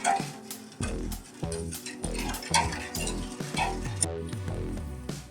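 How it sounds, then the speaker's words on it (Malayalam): Sugar syrup for orange juice stirred in a pot, repeated rhythmic scraping and metallic knocks of a spoon going round in one direction, loud and close, with faint bubbling underneath. "ഒരേ സൈഡിലോട്ട് തന്നെ ഇളക്കി കൊടുക്കുക"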